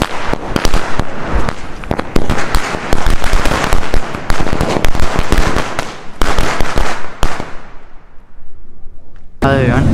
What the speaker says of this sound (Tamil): இன்றைக்கி நம்ம வந்து பட்டாசு அடிக்க போகிறோம்